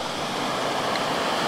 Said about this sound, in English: The waves are rather mild here right now because we're actually in a little cove.